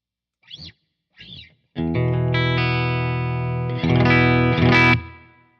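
An electric guitar through a digital preamp's clean channel modeled on a Fender Twin Reverb: two short picked notes, then sustained strummed chords ringing with effects, a final louder strum decaying out.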